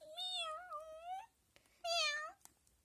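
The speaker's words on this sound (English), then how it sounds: "cat who lived next door to Henry and Mudge had a litter of kittens" Kittens meowing: two clear, drawn-out meows separated by a short pause, close and fairly loud, with no talking.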